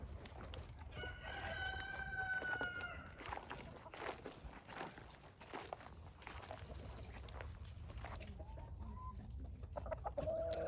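Chickens cluck and murmur close by amid a busy farmyard, with a rooster's crowing phrases rising over the flock early on.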